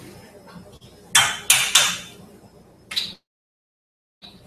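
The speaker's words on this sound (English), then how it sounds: "After we dump the pie in the mug." Dry Repashy powdered reptile food dumped into a mug, heard as a few quick clattering knocks and scrapes close by, followed by a short pause and a faint final tap.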